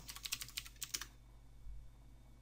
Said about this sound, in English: Now if we launch that up and we type in here servers now